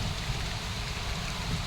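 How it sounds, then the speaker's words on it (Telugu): Rain falls steadily in a dense, even hiss with a low rumble beneath, no voices present. "జాగ్రత్త, వానకి తడవమాకండి."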